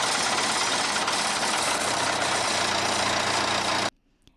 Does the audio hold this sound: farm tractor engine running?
yes